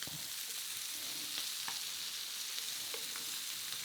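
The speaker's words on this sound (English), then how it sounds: "you wanna get you a nice sear on the part that's going to be" Sea scallops sear in a hot pan with a steady, fairly quiet sizzle, broken now and then by faint pops and clicks, with no voices over it.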